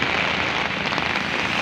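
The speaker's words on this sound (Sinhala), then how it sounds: "මේ වැස්ස එක දිගට මේ දවස් දෙකක් තිස්සේ මේ විදිහම" Heavy rain falls continuously during flooding in Sri Lanka, after two days of nonstop downpour, a close, steady, loud wash of drops with no pauses.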